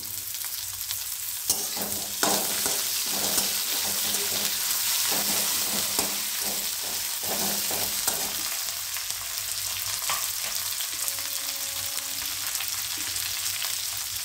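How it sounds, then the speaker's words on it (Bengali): Curry leaves spit and sizzle in hot oil for a tempering for tinda masala curry, a steady close crackle with clattering stirring strokes through the first half, settling into an even fry. "আর এতে আমি দিচ্ছি একটু কারি পাতা ফোড়ন।"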